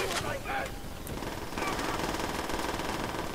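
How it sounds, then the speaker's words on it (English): Rapid machine gun fire in the World at War video game rattles loudly and continuously throughout, a dense, harsh burst of automatic shots from nearby. "I just hear that gun. I don't really like that gun sound."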